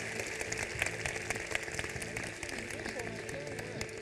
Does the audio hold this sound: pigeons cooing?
no